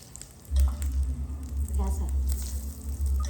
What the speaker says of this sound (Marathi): तेल थोडं गार होऊ द्यायचं आणि असं टाकायचं, असं तडका बसला पाहिजे